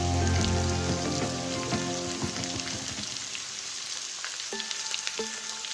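Keema matar, minced meat with peas, sizzles loudly in a pan with a dense crackle of frying, spoon scrapes and stirring clatter, and the sizzle eases down toward the end.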